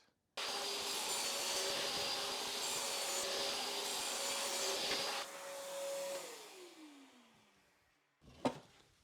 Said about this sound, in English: Take them to the saw, cut them to the proper length.